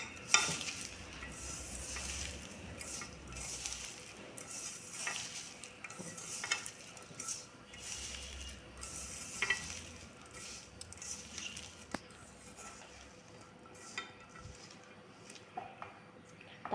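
Small mola fish being hand-mixed with chopped garlic and green chili, giving soft wet squishing and stirring noises in repeated strokes, close and fairly quiet, with no talking.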